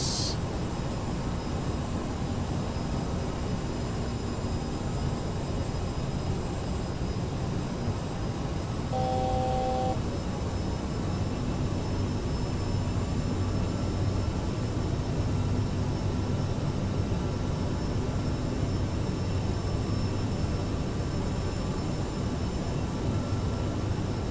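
An Aerosoft CRJ airliner on final approach in Microsoft Flight Simulator with gear down and full flaps, giving a steady, loud engine and airflow roar throughout, with a brief tonal cockpit chime partway through.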